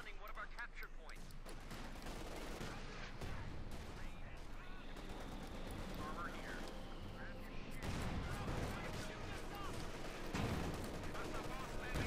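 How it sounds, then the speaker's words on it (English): In a Company of Heroes 2 battle, a Jackson tank destroyer fires among dense, continuous gunfire and explosions that crackle through the whole passage, with a voice talking over the fighting. "We got the Jackson shooting through the hedges trying to hit it."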